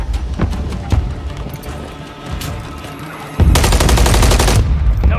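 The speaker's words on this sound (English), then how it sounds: "Mortar strike underway." Mortar strike in Call of Duty Warzone: dense, loud gunfire and booming impacts pile up in a constant barrage, and a sudden heavier rapid burst takes over near the end, with no talking.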